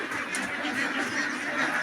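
A crowded flock of farm ducks quacks steadily in their rearing shed, overlapping calls forming a constant, fairly loud chorus throughout.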